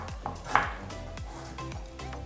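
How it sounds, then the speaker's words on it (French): A knife slicing a peeled carrot into rounds on a cutting board, with a few quick hard chops close by amid light kitchen clatter. "Ensuite, on va couper la carotte en rondelles."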